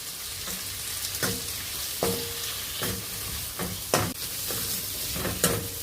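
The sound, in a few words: ripe jackfruit pieces frying in ghee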